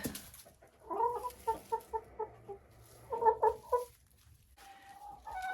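Hens cluck in short rhythmic bursts inside a coop enclosure, two clear runs of clucks close by separated by a quieter pause, with faint shuffling in the background.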